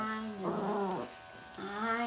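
A Havanese dog being groomed lets out soft, drawn-out moaning whines close by, two groaning vocalizations separated by a short pause.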